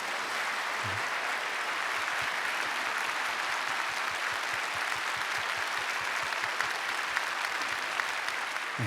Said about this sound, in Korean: 우리 주 안에 한 형제된 분들을 뜨거운 박수로 환영해 주시겠습니다.